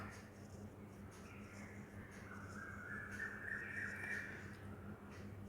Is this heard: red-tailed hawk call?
yes